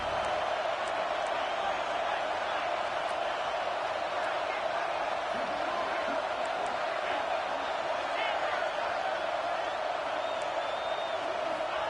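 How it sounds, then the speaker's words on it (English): A football stadium crowd roars steadily on a third down in an LSU vs Oregon game, with a sustained distant din under a play-by-play commentator's voice. "Third down, and the crowd really getting into it."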